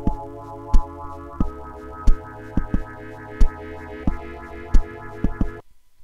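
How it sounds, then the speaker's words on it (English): Synth track with equalizer effects in a music production program, sustained tonal synth chords that sweep and shift, punctuated by regular sharp percussive hits, ending abruptly in silence. "You can hear the effects of the synth in the background as well."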